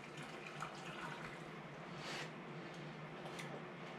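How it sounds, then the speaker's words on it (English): Hot liquid is poured into a canning jar packed with Jimmy Dean sausage, a soft continuous splashing trickle, close but quiet, with no talking. "and I pour it right in."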